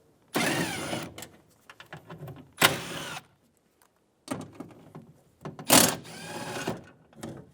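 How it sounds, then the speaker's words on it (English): Ratchet with an 8mm socket backing out window regulator bolts inside the door of a 2000-2007 Ford Focus, heard as several close, loud bursts of rapid clicking separated by short pauses. "Using an 8mm socket, remove the bolts for the window regulator assembly."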